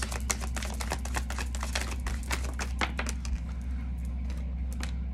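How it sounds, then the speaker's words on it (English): A washing machine runs nearby, with a steady low hum and a dense, irregular clatter of rattling clicks that continues throughout at moderate level, with no voices. "excuse the noise in the background. I'm doing wash."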